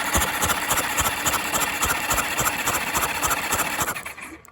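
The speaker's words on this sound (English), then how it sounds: "I put things back together again, fired up the bike" A motorcycle engine idles close by, its cylinders three and four misfiring. The running is uneven and knocking, a fast irregular chug that fades away at the end.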